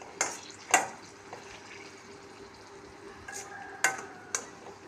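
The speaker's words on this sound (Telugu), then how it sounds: "ఎండుమిర్చి తీసుకొని ఇలా వేపుకోండి" Dried red chillies fry in a pan for a radish pickle, giving a soft, steady sizzle broken by a few sharp stirring clicks and scrapes.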